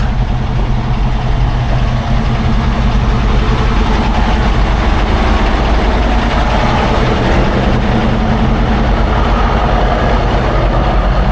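A truck engine idles steadily while warming up, a loud continuous low diesel rumble close by with no break for the whole stretch.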